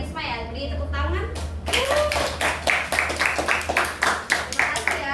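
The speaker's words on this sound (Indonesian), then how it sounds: "Beri tepuk tangan." A classroom of students applauding together for classmates, a burst of many hands clapping at close range in an irregular flurry, starting after a brief moment of room sound and continuing steadily to the end.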